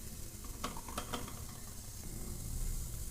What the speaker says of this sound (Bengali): প্রথমে পেঁয়াজ আর কাঁচামরিচ দিয়ে দিলাম